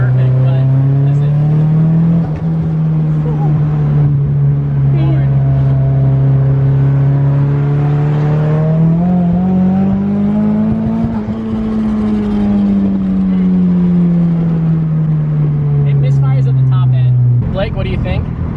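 A Nissan SR20-engined car idling rough and driving, its steady engine drone rising and falling in pitch with throttle, loud and close throughout, with voices talking over it.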